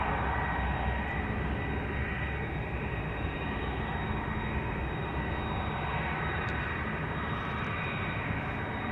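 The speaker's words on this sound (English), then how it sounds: "I'm also hearing the turboprop PC-12 taking off from runway 22." PC-12 turboprop taking off from runway 22 at Amsterdam Schiphol Airport, a steady, broad engine roar heard from a distance that holds level for the whole stretch, with no talking.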